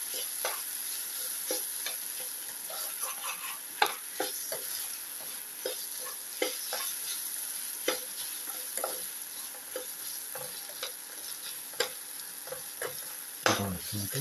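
Ginger, onion and tomato sizzle steadily in a pan while a utensil stirs and scrapes in frequent soft clacks, close by and moderately quiet, with no talking.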